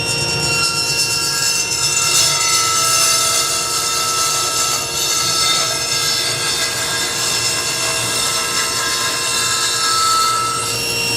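A power saw cuts a wooden board into strips, its loud, steady motor whine droning close and unbroken for the whole stretch, dipping only briefly near the middle.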